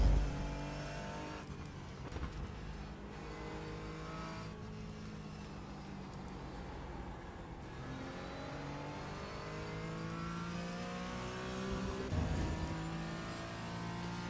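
A GT4 race car engine in the iRacing sim at The Bend, droning steadily under throttle with rising and falling pitch as the revs climb and ease off, loud and continuous with no voices.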